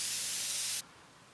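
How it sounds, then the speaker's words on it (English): A spray can hisses out light gray paint in one short, steady burst at close range, then stops abruptly, leaving quiet room tone. "I'm going to spray them lightly."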